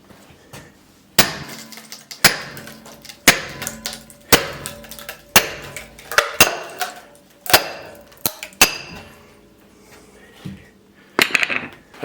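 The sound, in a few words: firewood splitting with hammer and steel wedge, wood cracking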